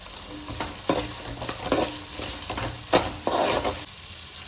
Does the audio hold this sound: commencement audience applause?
no